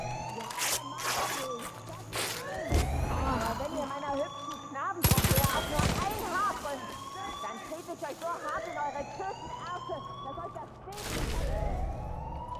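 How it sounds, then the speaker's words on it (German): A wailing siren-like alarm in the video game Far Cry 5 rises and falls repeatedly over several seconds, broken by loud bursts of gunfire and explosions. "Und die haben Alarm ausgelöst."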